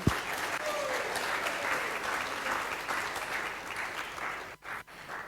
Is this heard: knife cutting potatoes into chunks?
no